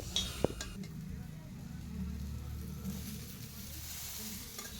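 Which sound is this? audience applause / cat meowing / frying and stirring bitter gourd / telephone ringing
frying and stirring bitter gourd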